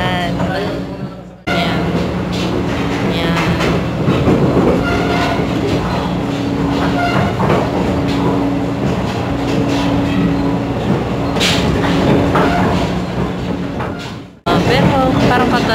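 Onboard a new PNR passenger train, a loud, steady rumble and rail clatter carries on without a break, fading out briefly near the start and again near the end.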